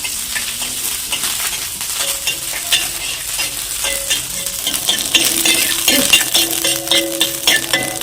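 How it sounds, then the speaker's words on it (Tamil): Mustard seeds, urad dal, chana dal, curry leaves and dried red chillies sizzle and crackle steadily in hot oil for a South Indian chutney tempering, with stirring scrapes throughout and no talk. "கடுகு உளுத்தம் பருப்பு கடலை பருப்பு கருவேப்பிலை வரமிளகம் அதை தாளித்தா"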